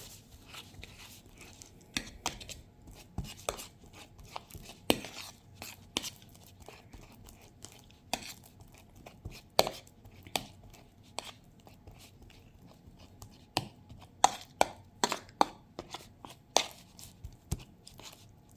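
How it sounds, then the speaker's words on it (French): A ripe banana being mashed with a fork in a bowl, giving repeated soft squishes and sharp taps of the fork at an irregular pace, fairly close, over a quiet background. "va écraser avec notre fourchette la banane"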